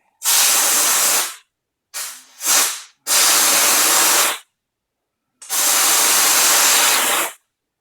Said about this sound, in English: just spray the crap out of it with the cold